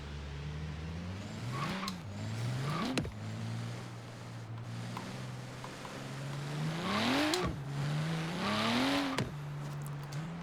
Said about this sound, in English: yeah, that's a Porsche.